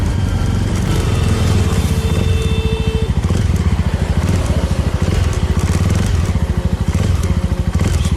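A touring motorcycle on a road in West Coast Southeast Sulawesi, Indonesia, with a loud, close engine drone and a rapid pulsing exhaust beat that holds steady throughout, along with wind and faint rattles.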